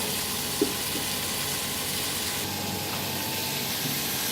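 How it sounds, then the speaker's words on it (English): Steady sizzling hiss of beef stew cubes browning in a hot pot, continuous and close, with no talking. "You hear the song of the pot. It's sizzling."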